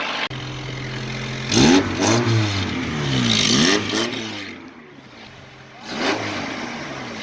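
A red Honda Civic EK with a modified exhaust idles close by, then revs several times, the engine note surging up and falling back between blips before settling to idle.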